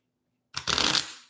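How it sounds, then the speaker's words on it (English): A deck of playing cards is shuffled in one quick riffle, a crisp close-up burst of flicking cards that rises after a short silence and fades within about half a second. "Oh, yeah, this is one I can shuffle."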